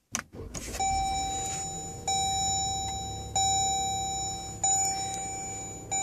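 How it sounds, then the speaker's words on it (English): Chimes and beeps from a Jeep Grand Cherokee interior after pressing the push-button start: a sustained electronic tone repeats about four times at steady intervals over a low rumble, with no engine roar evident. "There's your cluster. Push to start."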